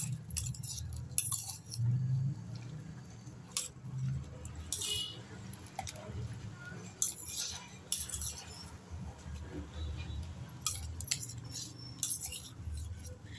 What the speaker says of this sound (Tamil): இதை இப்போ நல்லா கலக்கி விடணும்